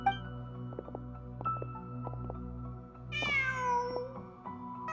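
A cat meows in Genshin Impact, one clear rising-then-falling call heard close and alone over a soft musical background with plucked tones.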